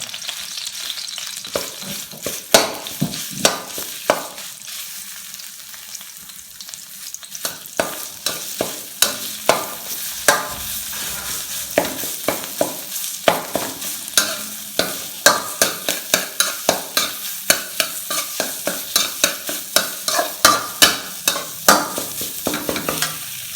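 Red curry paste sizzling and frying in a little oil in a pan for chu chee tilapia, with steady crackle under repeated sharp scrapes and clacks of a utensil stirring it, close and fairly loud.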